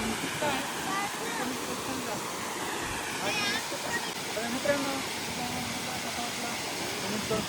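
A forest waterfall roars as a steady broadband rush throughout, fairly loud and close, with people's voices talking over it at times.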